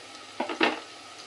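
Onions frying in a pan during chicken fry preparation, giving a soft, brief sizzle with a couple of quick stirring scrapes, close and fairly quiet.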